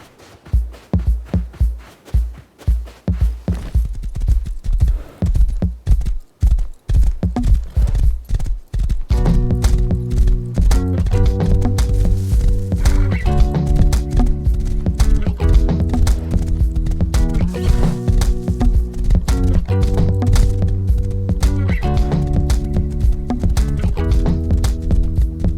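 Horse hooves clip-clopping in the survival game Rust, a steady run of hoofbeats with an occasional whinny, later joined by a continuous melodic game music bed that plays over the galloping.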